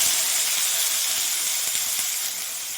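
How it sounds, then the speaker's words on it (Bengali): Vegetables including carrots hit leftover oil in a wok after potatoes were fried, giving a steady, bright hiss and sizzle that holds evenly and eases off slightly near the end. "ওই তেলের মধ্যেই আমি সবজিগুলো দিয়ে দেব।"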